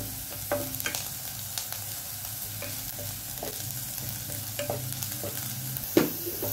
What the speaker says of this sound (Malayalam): ഉള്ളി നല്ല വഴണ്ട് വരുന്നുണ്ട്.